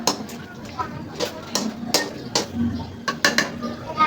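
A lid set down on a cooking pot of beef dry fry, with several sharp metallic clinks and knocks of the lid and utensils scattered through the stretch, close and fairly loud, under a faint bed of background noise.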